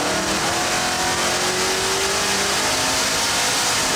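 A junkyard Ford 390 FE V8 revving hard toward 7,200 rpm on a test stand, a loud, dense, roaring wall of engine noise with a rising tone, close and unbroken throughout.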